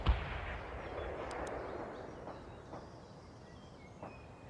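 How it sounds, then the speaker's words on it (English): A missile launch in the real-time strategy game World in Conflict, heard as a sharp blast followed by a long, rumbling roar of battle that slowly fades, at moderate distance, with no talk. "Launching missile now!"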